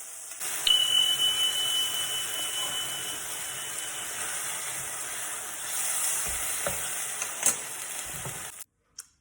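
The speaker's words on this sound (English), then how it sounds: "add on the fake chicken from the veggie stock onto the pan onto a medium heat and cook it each side 2 to 3 minutes" Vegan fake chicken fries in a pan over medium heat, a close, steady crackling sizzle with occasional sharper pops, no talking, cutting off abruptly at the end.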